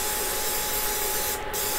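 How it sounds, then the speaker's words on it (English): Cooking spray hisses from a can into the inside of a waffle iron, one continuous close, loud spray lasting under two seconds with a brief dip near the end. "So I'm going to spray the inside of my waffle iron really good."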